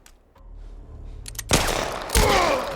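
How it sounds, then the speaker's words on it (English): Gunfire in The Last of Us Part 1 during a cover fight in the Quarantine Zone, with a quiet lead-in, then two loud close shots with echoing reverberation, the second coming about half a second after the first. "take aim and then fire when he pops up"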